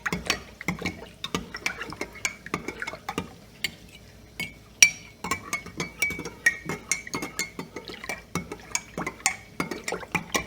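Yeast being swirled in a glass with warm water and brown sugar for homebrewing, giving repeated light glassy clinks and faint liquid sloshing in a quick irregular rhythm, close and fairly quiet with no talking.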